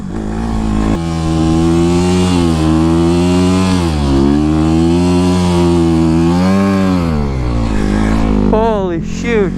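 A Honda CRF250R dirt bike on studded tires revs hard across a frozen lake, a loud, close single-cylinder engine rising and falling through the gears, ending in a sharp rev at the close.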